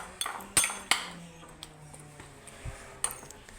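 Spoon clinks and scrapes against a bowl while stirring cucumber sandwich filling, a few sharp taps among softer rattles, close and fairly quiet, with no talking.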